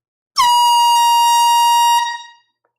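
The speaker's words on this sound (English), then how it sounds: "We may have at least one more air horn tonight if this record sells." A single loud air horn blast at a live record sale, a bright steady tone that holds for about a second and a half, then fades out quickly, with no talk over it.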